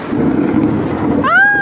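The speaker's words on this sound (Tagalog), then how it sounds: "Ayan na! Kumukulog!" Thunder rumbling during moderate rain outside a small shop, a low rolling roar filling the short moment, heard loud and near, with a higher, animal-like tonal cry rising at the end.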